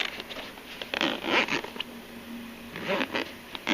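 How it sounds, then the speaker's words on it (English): A heavy-duty zipper on the carrying case of a SNAN 12000mAh 400A car jump starter is pulled open in a few short, scratchy runs close to the mic, with brief pauses between pulls. "You simply unzip it."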